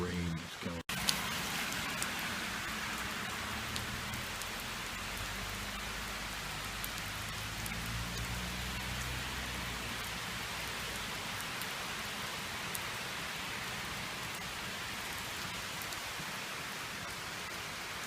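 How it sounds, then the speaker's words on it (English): Steady rain falls during a bike ride on the Ohio to Erie Trail in a park, a constant close hiss of drops on surfaces with a low rumble beneath, under faint talk. "The rain is killing me."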